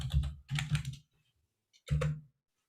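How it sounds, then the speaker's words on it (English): Rapid keystrokes on a computer keyboard in three quick clusters, with a short pause before the last burst. The typing is close and fairly loud, with no voices. "I'm typing it in as we speak."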